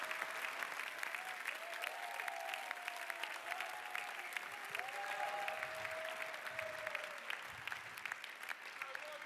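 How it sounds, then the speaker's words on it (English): An audience at a pitch competition event applauds in a continuous, dense wash of clapping with a few whistle-like tones rising through it, moderately distant and without clear speech. "Can we get another round of applause?"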